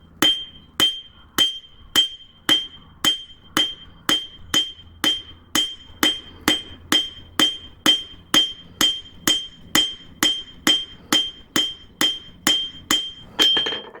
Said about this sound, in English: Rounding side of the hammer